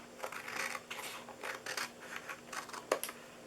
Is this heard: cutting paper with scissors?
yes